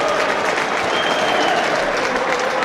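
A Middlesbrough football crowd at a 2008/09 match against Everton roars and applauds in a dense, sustained wash of noise that fills the stadium, loud and unbroken throughout.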